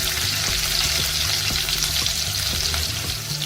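Finely chopped onion sizzling in hot oil with crushed garlic in a pan, a steady close frying hiss with light stirring scrapes throughout.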